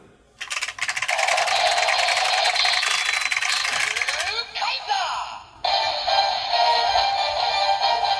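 A gacha medal machine handle being cranked, a loud close mechanical whirring rattle that runs for several seconds, breaks off with clicking, then resumes, with people talking around it.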